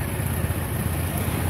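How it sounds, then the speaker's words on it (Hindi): Cold wind blows steadily across an outdoor road in Faisalabad after light drizzle, a constant broad rushing roar buffeting the microphone with no other distinct sounds. "इस वक्त ठंडी हवा चल रही है"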